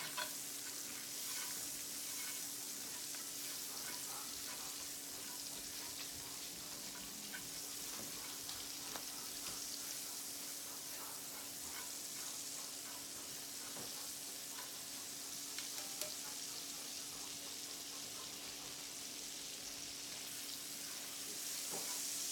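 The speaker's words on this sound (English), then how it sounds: "starting off with the mushrooms in the pan drippings. Get them nice and caramelized." Sliced baby bella mushrooms fry in pan drippings, a steady close sizzle running throughout with faint crackles and occasional stirring scrapes.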